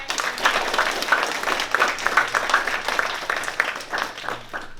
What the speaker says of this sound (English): So let's give another applause to our advanced manufacturing.